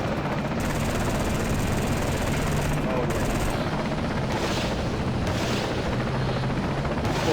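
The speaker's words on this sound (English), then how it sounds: "Of course, hitting it with some missiles there." Missiles hammering a target in Battlefield 2 AIX, a loud, dense barrage of rumbling blasts and gunfire layered over a steady engine roar, with a voice talking underneath.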